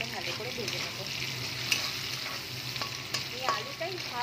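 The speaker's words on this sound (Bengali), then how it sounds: "আলু দিয়ে দিয়েছি কড়াইতে, আলুটাকে ভালো করে ভেজে নেব" New potatoes fry in hot oil in a kadai, a steady crackling sizzle with occasional scraping clicks of a spatula stirring them, continuous and fairly close.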